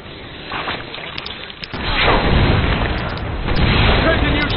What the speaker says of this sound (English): Give me a lot of shotgun shots